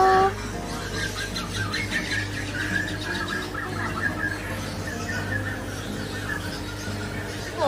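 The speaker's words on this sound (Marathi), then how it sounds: "पोपट आहेत, किती पक्षी आहेत बघा" Talking parrots and other caged birds call and squawk at Crawford Market in Mumbai, with shrill bursts over a busy crowd hum that runs throughout.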